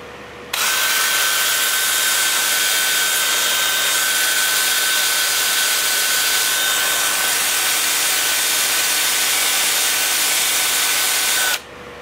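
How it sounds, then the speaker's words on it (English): A wood lathe spins steadily while turning wood, giving a loud continuous whirring hum with a high steady whine. It starts abruptly, holds constant for about eleven seconds and cuts off sharply, with no talking. "with the lathe spinning in reverse"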